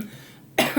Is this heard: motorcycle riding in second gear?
no